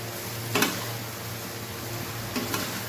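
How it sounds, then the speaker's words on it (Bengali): Chow mein noodles are mixed with fried vegetables in a pan over high heat, a steady broad hiss with a low hum underneath and two brief scraping stirs. "আমি নুডলসগুলোকে ভালো করে এখন মিশিয়ে নেব"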